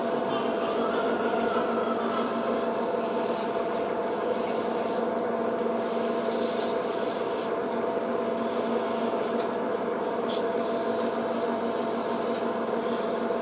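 Super fine sandpaper rubs back and forth in a steady, close, rasping rhythm, continuous and fairly quiet with occasional brighter strokes.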